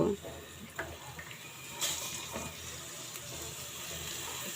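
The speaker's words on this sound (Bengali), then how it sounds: "এটা এখন আমি ব্রাউন কালার করে ভেজে নিব হালকা একটু" Food for a rohu fish and cauliflower curry is lightly browned in hot oil, giving a quiet, steady sizzle with occasional soft clinks and scrapes of stirring.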